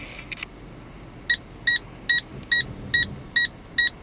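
Mercedes-Benz parking sensor warning sounding seven short, evenly spaced electronic beeps, loud and close in a parked car, after a couple of brief faint clicks at the start.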